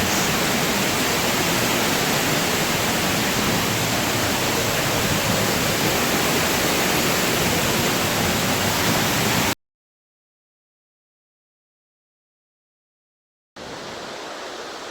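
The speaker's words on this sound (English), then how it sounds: "I know it was very difficult to hear me underneath the waterfall" Loud, dense roar of a waterfall falling close by, heard from inside the falls, a constant broadband wash that cuts out abruptly, then returns after a few seconds of silence.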